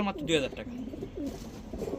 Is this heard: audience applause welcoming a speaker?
no